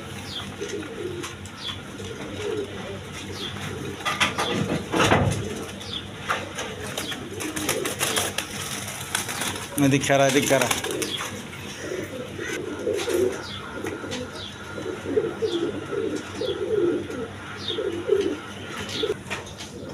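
Sirazi Lahori pigeons coo in soft, repeated bursts within a busy pigeon-selling spot, with scattered bird chirps and wing flutters and a brief spoken call.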